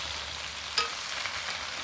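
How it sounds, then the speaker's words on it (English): Cabbage sizzles and fries in a cast iron pan during outdoor cooking, a soft steady hiss with a single sharp utensil clink midway through the short stretch. "as soon as that starts really sizzling"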